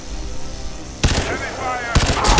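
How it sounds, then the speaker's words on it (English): Heavy gunfire in the shooter game Crysis 2, with two sudden loud bursts of shots cutting in after a quieter stretch, the second burst arriving near the end. "Heavy fire."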